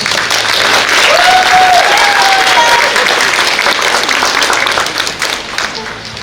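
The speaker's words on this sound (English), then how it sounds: "Can we give them a round of applause, please?" A spring concert audience gives sustained, loud applause for two featured soloists, the clapping crowd joined by a faint tonal voice or whistle partway through before the sound gently tapers.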